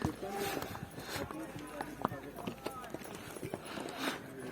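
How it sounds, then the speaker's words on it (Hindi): Several horses walk along a mountain trail at Kufri, Himachal, with hooves clip-clopping in an uneven, overlapping rhythm at moderate distance, while people talk over them throughout. "और उसी रास्ते पे चलते रहते हैं ये घोड़े।"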